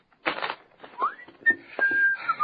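A short whistled snippet of a tune, rising and holding a few notes, mixed with soft rustling and faint noises in a quiet room.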